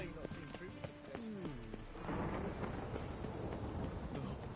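Stormy weather in The Witcher 3: steady rain hiss and rumbling thunder build into a loud broadband wash in the second half, following a stretch of talk and tonal game sounds at the start.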